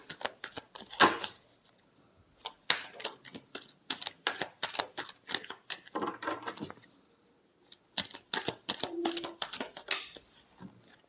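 Tarot cards are shuffled by hand at close range, quick bursts of riffling card clicks and slaps in short repeated runs separated by brief pauses.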